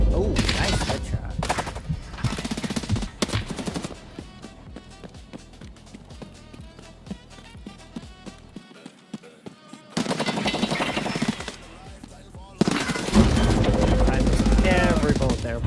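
Bursts of rapid automatic gunfire break out in an Escape from Tarkov match, loud clustered volleys separated by quieter stretches of footsteps and movement, with someone talking at times between the shots.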